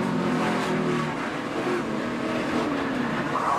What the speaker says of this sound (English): You could hear Chase even getting out of the throttle too